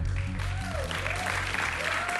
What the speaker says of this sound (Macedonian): момците беа срекни за девојките и ги поздравија со аплауз